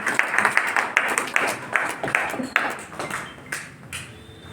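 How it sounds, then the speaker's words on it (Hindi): An audience at a Vikasika Diwas 2024 event applauds in honor of the guests, a burst of scattered claps with some sharp ringing taps, gradually thinning out toward the end. "मैं सभी लोगों से अनुरोध करूंगा एक बार तालियां बजा करके"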